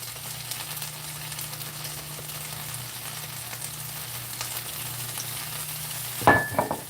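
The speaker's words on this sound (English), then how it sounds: "Listen to that sizzle." Impossible burger patties frying in a pan, a steady close sizzle throughout with a brief clatter near the end.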